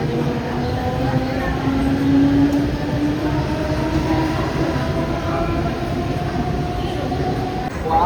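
A Mumbai local train rumbles steadily from start to end, a dense, continuous rolling drone with faint voices blending into the noise.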